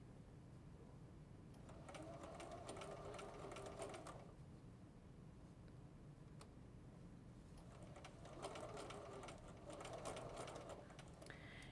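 A sewing machine stitches a quilt block in two quiet, steady bursts of rapid mechanical whirring, separated by a short pause.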